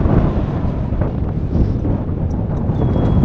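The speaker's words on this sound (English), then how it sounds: "It's a little bit windy up here." Strong wind buffets the microphone high in Washington's alpine country, a loud, steady roaring rush that fills the whole stretch with gusty swells and no voices.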